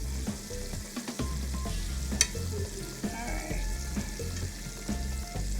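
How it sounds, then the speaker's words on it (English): Steady, close sizzling and crackling of chicken wings frying in hot oil, with a brief spoken word at the start. "So while that chicken is frying"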